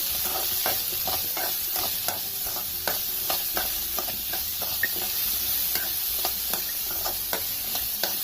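Tamarind and salt stir-fried in a pan give a soft, steady sizzle broken by frequent light scraping and clicking strokes of a spatula, close and continuous with no voice.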